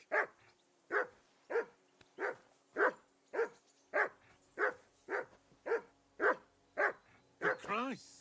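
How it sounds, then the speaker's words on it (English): A dog barks over and over at close range, roughly a dozen sharp, evenly paced barks, ending in a longer whining yelp, with no talk over them. "That barking was a pain in the ass."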